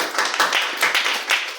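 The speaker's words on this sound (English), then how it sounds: "A big round of applause to each one of you" Brief clapping breaks out at a Toastmasters club meeting after a tall tale contest. It comes in uneven bursts from a small group, close and moderately loud, lasting under two seconds.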